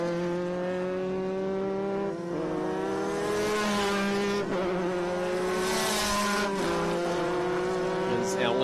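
Formula 5000 race cars at Winton Motor Raceway braking into turn 10, their high-pitched engines droning loudly and steadily with slight pitch dips, under a commentator's voice.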